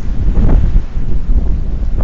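Heavy wind batters the microphone on a solo fishing outing, a constant loud low-frequency rumble with uneven gusts and no voices.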